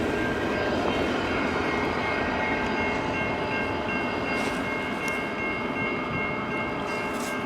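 A CN A492 eastbound freight train in Emmett, Michigan sounds a sustained, tonal horn over a constant heavy rumble of the train passing close by, with no speech.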